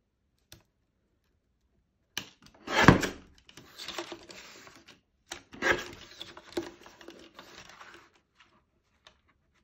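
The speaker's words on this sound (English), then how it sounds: "Going to take our guillotine, just going to trim down our sentiment." A paper guillotine trims a card sentiment, with a few sliding, rasping cuts and light knocks at close range between quiet pauses.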